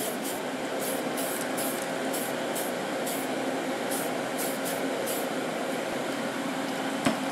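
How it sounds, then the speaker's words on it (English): Steady whooshing hum of a spray booth ventilation fan running continuously, with short bursts of primer spray hissing over it. "Turn my spray booth on here."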